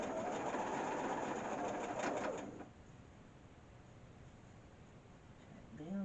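A sewing machine stitches small patchwork pieces in a fast, close whirring run that stops abruptly partway through, leaving quiet room tone and a faint stir at the end.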